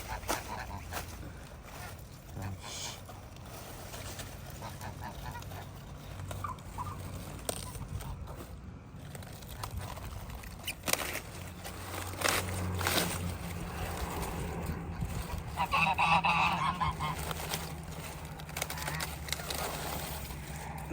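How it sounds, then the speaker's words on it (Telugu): Ducks quacking loudly while being fed discarded cabbage leaves at a South Korean kimchi cabbage farm: a burst of harsh quacks rises near the end over steady outdoor rumble and engine-like noise. "ఈ ఆకులన్నీ తీసి ఆ బాతులకి వేస్తారు చూడండి. వాటికి ఇప్పుడు పండగ అనమాట, అందుకే అరుస్తున్నాయి ఇవి."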